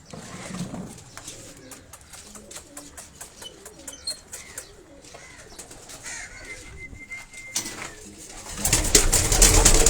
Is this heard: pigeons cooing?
yes